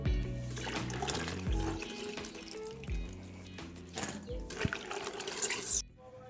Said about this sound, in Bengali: আমি কুলটাকে ভালো করে ধুয়ে নিচ্ছি। ভালো করে আমি ধুয়ে নিতে হবে।